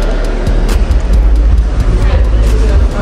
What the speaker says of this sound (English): You hear the bass in that car?